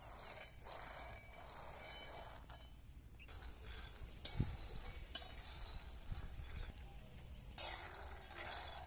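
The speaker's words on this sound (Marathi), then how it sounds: "कढईमध्ये आता शेंगदाणे भाजून घेऊ" A bowl of peanuts dry-roasting in a kadhai, stirred steadily, gives a continuous rattling, scraping clatter of nuts against the metal. A few louder clinks and knocks stand out along the way, with no talking.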